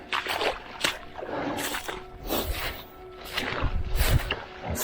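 Boots slosh and splash through water in a bog, a few uneven wet steps with trickling and squelching, fairly close and alone.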